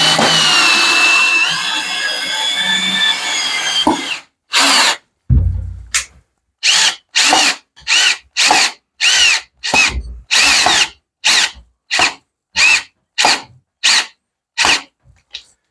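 A power drill drives long screws into a door to fit a manual security lock. There is a sustained whine at first, then a long series of short, loud trigger bursts separated by brief pauses, all close and with no talking.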